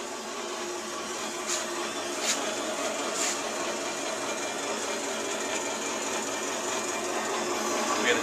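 Prototype electric sugar cane juicer with a motor and rollers running outdoors, a steady mechanical whir with faint clicks, moderately quiet and alone.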